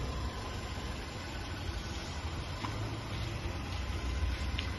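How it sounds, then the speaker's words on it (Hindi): Quiet, steady 2024 Maruti Suzuki Jimny SUV engine idle, a low smooth hum with faint mechanical ticking, no talk. "Negligible engine sound."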